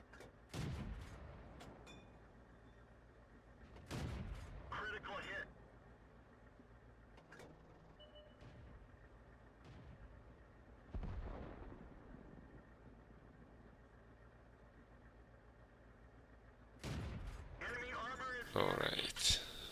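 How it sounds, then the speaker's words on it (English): Tank cannon shots ring out in a World of Tanks battle, several heavy booms spaced seconds apart, each with a short echoing tail over a low engine hum, while someone talks between shots. "Now that I have fired for the last 2 minutes constantly."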